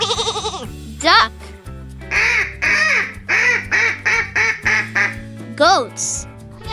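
A duck quacks in a rapid run of short, nasal bursts, about nine in a row, set against a looping children's nursery-rhyme melody.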